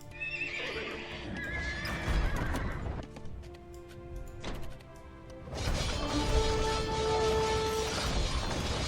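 Horses neighing in a strategy video game, several loud whinnies with clip-clopping hooves and the clatter of a busy battle scene, the calls overlapping and fading in and out.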